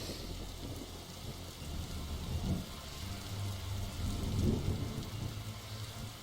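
Steady, heavy rain in The Darkside Detective keeps falling, with low rolling thunder swelling twice under the downpour and no voices.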